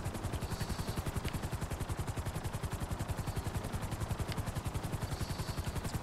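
A helicopter landing in GTA V, its rotor chopping in a fast, even, pulsing rhythm that stays loud and steady throughout.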